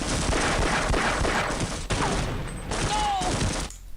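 Gunshots in a video game, a dense continuous barrage of rapid gunfire and explosions filling the whole stretch, with game effects and faint whistles mixed in before it cuts off abruptly.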